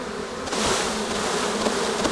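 Honey bees swarm around an opened hive during an inspection, their dense steady buzz holding close and fairly loud throughout, with no voices over it.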